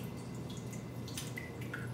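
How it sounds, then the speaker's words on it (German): Water drips somewhere in a flooded facility in the sci-fi horror video game SOMA, a few faint, scattered high plinks over a steady low hum of ambience, with no voices. "Aber irgendwo tropft es doch noch."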